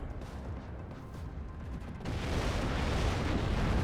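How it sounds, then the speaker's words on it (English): Artillery shells pound an Abrams tank in the WARNO video game, a rumbling roar of blasts that swells louder partway through and continues without talk. "the artillery is doing some work on the Abrams"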